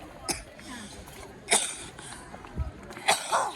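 Several short, sharp coughs burst out at uneven intervals over quiet background noise.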